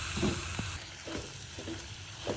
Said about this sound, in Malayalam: ഇനി നമുക്ക് ഈ കഴുകി വെച്ചേക്കുന്ന ചിക്കൻ അതിലേക്ക് ഇടാം.